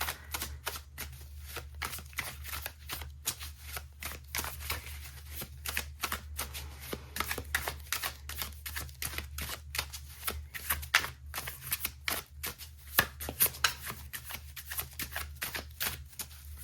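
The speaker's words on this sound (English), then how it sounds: "I feel like I want to pull some of these oracle cards first" Oracle cards being shuffled in a steady riffling flutter close up, a long continuous run of quick papery flicks and slaps with no talking.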